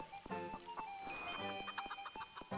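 A chicken clucks in short repeated bursts close by, a choppy run of squawky calls with uneven rhythm over a faint farmyard background.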